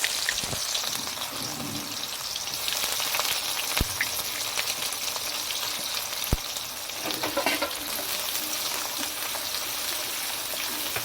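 Chopped onion and bay leaf frying in hot oil for mutton curry, a continuous close sizzle with a few sharp ticks and spatters throughout.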